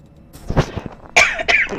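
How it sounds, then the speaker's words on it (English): Two or three sharp, harsh coughs burst out close and loud, the last pair strongest, with faint softer sounds just before them and no speech. "Oh my god, the cough. The cough!"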